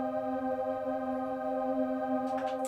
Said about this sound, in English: next element, which is the pads.